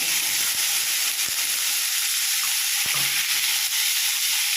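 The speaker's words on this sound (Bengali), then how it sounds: "পনিরগুলোকে আমি হালকা করে ভেজে নেব।" Paneer pieces frying in hot white oil in a heated kadai, giving a steady broadband sizzle and hiss throughout with a few soft stirring clicks underneath, close and fairly loud with no speech.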